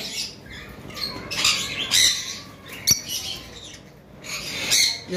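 Several peach-faced lovebirds of the lutino colour, kept as a breeding pair, squawk in short harsh bursts, with a few sharp calls and chirps scattered over about five seconds at close range and no talking.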